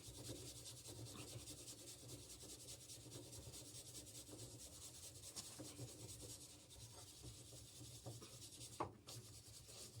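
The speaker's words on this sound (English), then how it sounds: "We're just going to clean this hub up." Steady dry rubbing and scraping as a wheel hub is cleaned by hand, a continuous abrasive hiss with brief heavier strokes, close up with no talking.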